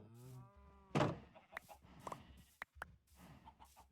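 Chickens clucking in a video game: a few close, short squawks and clucks in uneven bursts, with quiet gaps between them.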